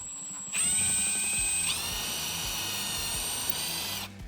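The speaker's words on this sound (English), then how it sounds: "I'm going to take my drill, and I'm going to go ahead and drill these out." A power drill whirs at high pitch, steady and close, with its pitch climbing slightly partway through as it bores into a wooden door frame.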